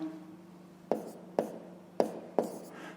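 Numbers being written out for a fifth-grade maths exercise: four short, sharp strokes land about half a second apart against a quiet room hum.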